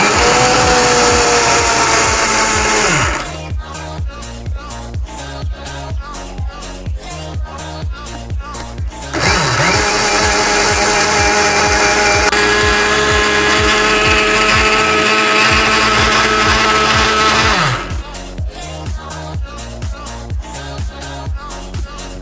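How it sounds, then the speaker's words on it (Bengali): An electric mixer grinder powders sugar in loud bursts of whirring, with the motor running hard, stopping in rapid stuttering pulses, then roaring again. "এবার মিক্সি মেশিনে এই বাটিটাকে বসিয়ে দেওয়ার পর এই চিনিটাকে গুঁড়ো করব।"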